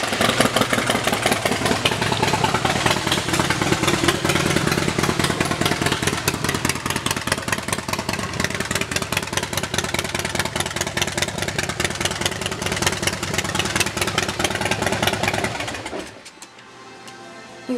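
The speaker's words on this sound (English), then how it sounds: "let's listen to the exhaust." A 2016 Harley-Davidson Softail Slim S idles through its exhaust, a loud, close, steady rumbling lope with a fast pulsing beat for about sixteen seconds before it cuts out abruptly to near silence.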